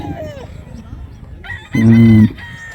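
A gamefowl rooster crows once at a gamefowl farm, loud and close, a brief harmonic call rising out of light background chatter and farmyard noise.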